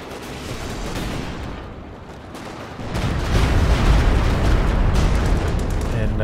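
Cromwell tank cannon fire in Company of Heroes 2, heavy booms and rumbling blasts amid a dense battlefield din that swells louder and stays sustained in the second half.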